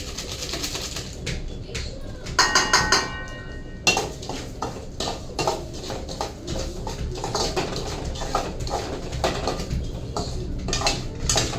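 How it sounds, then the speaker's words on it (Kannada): Poppy seeds are stirred in a pan while frying, with irregular metallic scraping and clattering of a utensil against cookware. The noise comes in quick bursts over a faint background. "ಗಸಗಸೆ ಫ್ರೈ ಮಾಡ್ಕೊಳ್ಳೋಣ."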